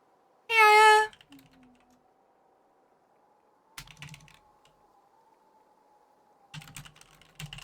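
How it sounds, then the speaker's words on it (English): A computer keyboard is struck hard in short clattering bursts of typing separated by near silence, preceded by a brief loud tonal beep. "That's what all the violent typing noises are"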